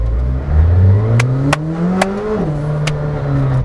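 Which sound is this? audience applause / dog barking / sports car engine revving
sports car engine revving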